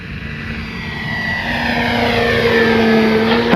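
An E-flite Carbon Z T-28 radio-controlled warbird flies past with a steady electric propeller whine that swells louder and dips in pitch as it passes, heard alone with no talking.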